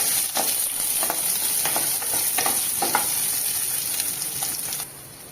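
Small shallots and manathakkali greens stirred in a frying pan for a kootu, a steady sizzle with soft scraping strokes recurring every half second or so, close and continuous, no talk.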